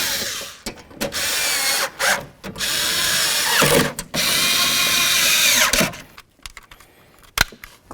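A power window regulator motor in a 1988-02 GMC Sierra 1500 door whirs in several loud bursts, starting and stopping with short pauses and clicks between runs.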